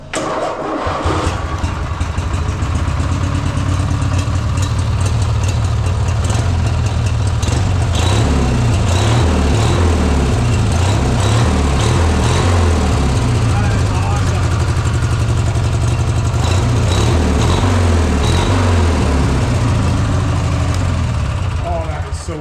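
A lawn mower engine fitted with a foot throttle and with its governor removed catches and runs loudly throughout, its revs rising and falling in repeated surges close by, with some talk mixed in.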